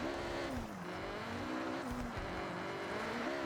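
A front-wheel-drive Honda Civic tuned to 400 brake horsepower in a racing game holds a steady droning engine note that rises and dips slightly with throttle, continuous and fairly faint, with no talk.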